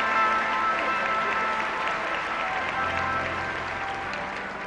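A crowd at a 1975 Las Vegas healing service applauds in a continuous, full wash of clapping that holds steady and fades slightly toward the end.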